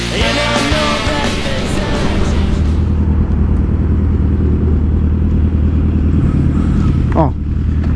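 A Yamaha R1 and a 750 motorcycle ride together, their engines giving a loud, constant close rumble throughout, with speech over the engine noise at the start.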